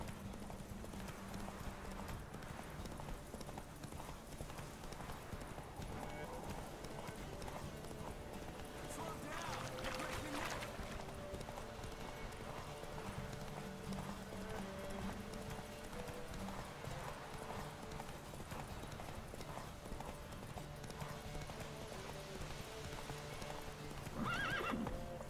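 Roach, the horse in the video game The Witcher 3: Wild Hunt, gallops with continuous hoofbeats under steady game music and occasional neighs, while someone talks over it at moderate level throughout.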